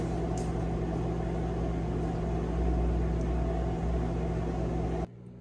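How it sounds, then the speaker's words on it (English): A steady mechanical hum with a low drone as a microwave oven runs melting candle wax, holding constant for five seconds before cutting off abruptly. "I'm gonna melt my wax in the microwave for 2 minutes."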